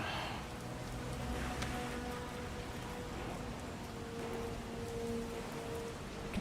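Steady rain in a video game, a constant broadband hiss of falling drops with faint patter, even and unbroken throughout, with no voices.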